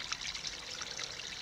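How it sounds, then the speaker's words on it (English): A small mountain stream in the Owens Valley trickles with low flow, a soft, faint, continuous babble heard alone with no voices. "Here's the little stream. Not much flow"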